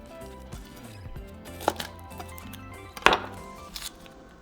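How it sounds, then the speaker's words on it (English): Knife chopping half an onion on a board, soft irregular cuts with a couple of sharper knocks, fairly quiet and close, no talking. "So we're going to chop the 1/2 of the onion for our meat."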